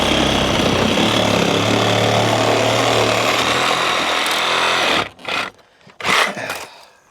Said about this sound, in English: we'll just take a Sawzall right across there in a straight line